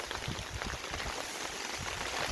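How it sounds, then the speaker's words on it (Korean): Steady rain falls on an open-field pepper farm during the monsoon season, a faint, dense hiss of drops pattering continuously with no voices. "어제부터 지금 계속 또 비가 오고 있어요."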